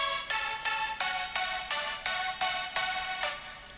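A synthesizer plays a high melody line of nine evenly spaced bright notes, each sharp-edged and briefly sustained, clear and alone with no other sounds.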